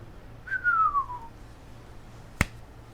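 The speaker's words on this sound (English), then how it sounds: "I can also whistle." A person whistles a single smooth, gliding note, followed a moment later by one sharp click, close and clear against a quiet room.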